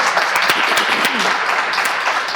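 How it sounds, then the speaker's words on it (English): An audience at a storytelling event for a Union Club president claps steadily, a dense, fairly close burst of applause that fills the whole moment without letup. "Can we get a hand clap?"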